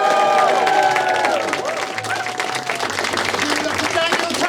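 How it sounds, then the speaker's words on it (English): At a comedy heat, an audience applauds and cheers for a comedian in a steady, loud wash of clapping and crowd noise, with music playing underneath. "So please put your hands together"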